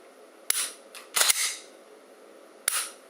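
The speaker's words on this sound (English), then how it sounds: "that's one way to dry fire" A Glock pistol is dry fired, giving a few sharp, close trigger clicks with a short mechanical rattle between them in an otherwise quiet room.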